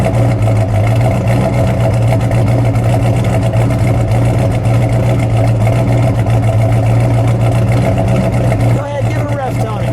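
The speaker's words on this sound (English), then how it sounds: "We'll just let it idle for a second." A 1969 Dodge Super Bee with a 426 Hemi V8 idles close by, a loud, steady, deep rumble that holds even for about ten seconds, with people talking nearby.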